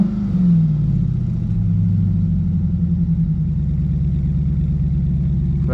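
A Chrysler 300 SRT8 with a new exhaust revs up close by, one rising blip early on followed by a deep, steady burbling idle, loud and with no talking over it.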